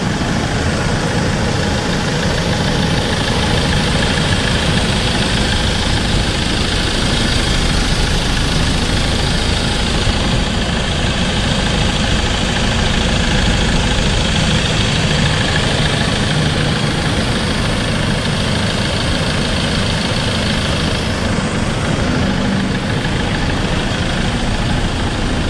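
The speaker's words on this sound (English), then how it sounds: "So just got to run the engine for a couple minutes to bleed this off correctly." A vehicle engine idles continuously for a couple of minutes to bleed air from a freshly refilled coolant system, a steady, dense hum with no talk and no change in pace.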